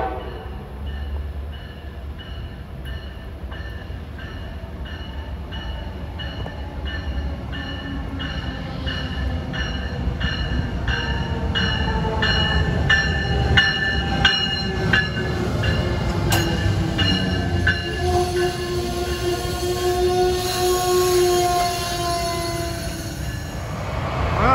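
An Amtrak ACS-64 electric locomotive, unit 670, hauls a train past at close range in Philadelphia, a steady rolling rumble and clatter of wheels on rail swelling louder over about twenty-five seconds with rising squeals and whines.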